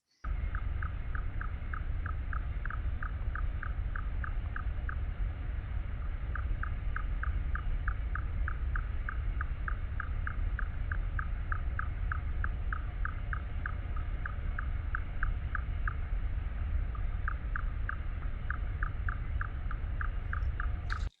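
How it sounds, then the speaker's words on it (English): Fin whale calls sped up 75 times: rapid series of short, regular chirps in bursts of several seconds with brief pauses, over a constant low rumbling hiss. "And fin whales make sort of chirps at about 20"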